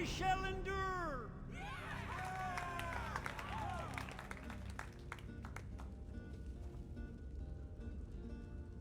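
Crowd of townsfolk cheering in The Elder Scrolls Online at Markarth, a swell of many voices and applause that fades out into quieter background ambience.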